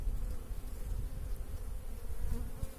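Honeybees hum densely and continuously around an opened hive during an inspection, a close, steady swarm drone with no voices.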